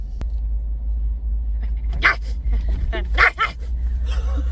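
A person imitates a dog inside a car, giving several short, loud bark-like yelps in the latter half over a low steady engine rumble.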